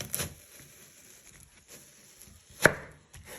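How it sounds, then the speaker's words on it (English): A knife chops through an onion on a cutting board, giving a couple of distinct sharp knocks, one near the start and a louder one later, close and alone in a quiet room. "You chop it down the middle."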